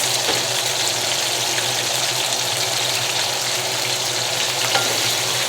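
Potatoes and onions sizzle and crackle in hot oil while being stirred, a steady close frying hiss with scraping from the stir throughout, made while sautéing steak and potatoes.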